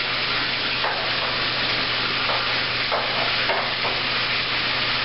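Vera Cruz sauce for fresh haddock sizzles and fries steadily in a pan, a constant crackling hiss with occasional stirring scrapes close by.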